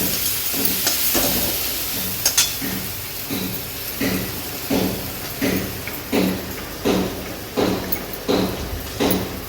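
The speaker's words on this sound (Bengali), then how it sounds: "এটা একটু নাড়িয়ে নিই, নাহলে পুড়ে যাবে আবার।" Ground spices, including Kashmiri red chilli powder, frying in a hot pan as a spoon stirs them: a constant close sizzle punctuated by regular scraping strokes, about one every second, with no talking.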